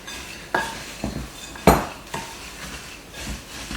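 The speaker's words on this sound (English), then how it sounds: "And then I'm just going to stir this together with a wooden spoon." Dry granola ingredients coated in honey butter, stirred in a bowl with a wooden spoon, giving a few distinct knocks and clacks against the bowl amid soft rustling, close and fairly quiet.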